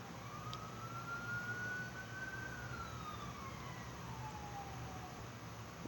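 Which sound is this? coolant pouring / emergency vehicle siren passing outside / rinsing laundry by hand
emergency vehicle siren passing outside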